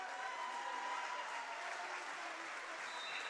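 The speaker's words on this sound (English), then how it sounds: "A round of applause" High school boys' basketball crowd in a gym applauding as seniors head to the bench; steady, full clapping throughout, with a faint whistle-like tone near the end.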